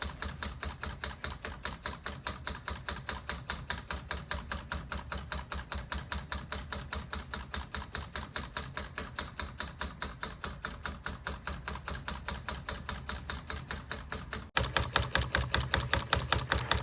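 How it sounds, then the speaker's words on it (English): A homemade garage-built engine driven by four solenoids pushing steel pins back and forth in a plastic tube runs steadily, a fast, even, machine-like clicking rhythm throughout, slightly louder near the end. "Today we're looking at a solenoid engine that we built here in the garage."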